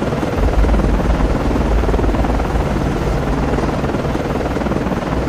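An SH-60 helicopter launches in the naval game Cold Waters, its rotor and engine a loud, continuous throbbing roar that fills the scene without letup.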